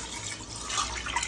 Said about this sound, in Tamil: இப்போ நம்ம எடுத்து வச்சுருந்த தேங்காய் பாலை ஊற்றிக்கலாம்.